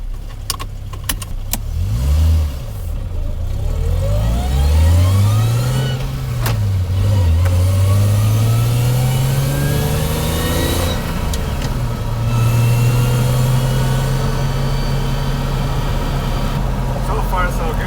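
Toyota Chaser JZX100 with an R154 manual gearbox swap drives slowly on a dirt road; the engine hum rises and falls through gear changes with cabin rattles, close and loud under occasional talk.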